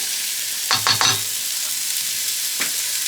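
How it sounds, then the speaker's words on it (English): Carrots and onions drop into a stew pot for a drunken pork stew and are stirred, with a brief cluster of clatter and scraping over a steady sizzle, then one more short stir. "So I have some carrots and onions. We're going to put that right in."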